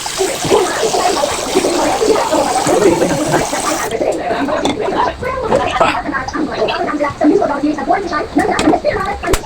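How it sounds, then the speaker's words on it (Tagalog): Water splashes and gurgles steadily into a cooking pot for several seconds, with someone talking over it. "lalagay tayo ng tubig"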